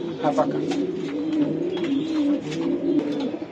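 Racing pigeons on a pigeon farm coo in low, steady throaty rolls, close and continuous, with people talking nearby.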